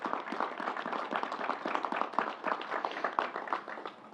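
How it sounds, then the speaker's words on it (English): Audience applause at the New York State Fair, a dense continuous patter of many hands clapping at steady volume throughout, moderately distant and without talk. "Let's give the whole team at the State Fair and the National Guard a round of applause."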